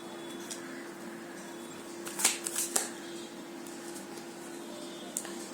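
Tarot cards shuffled by hand during a Hindi tarot reading: a brief cluster of papery riffles midway, with a softer flick near the end, over a steady low hum and no talk.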